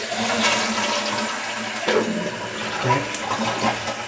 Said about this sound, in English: I'm going to have to give it a flush, and I'm not even going to let it flush all the way